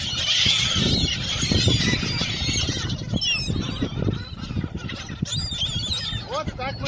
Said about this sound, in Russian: Вот так мы кормим чаек.